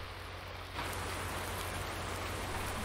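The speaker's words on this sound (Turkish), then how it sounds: "Evet, yağmur başladı." Rain starting in the farming video game Farming Simulator 19: a steady, dense hiss of falling rain that swells suddenly and then holds evenly, with no voices.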